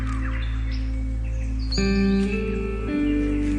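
A rainforest bird sings an elaborate song of clear whistled tones and shifting pitched notes, moderately loud over a steady low background hum.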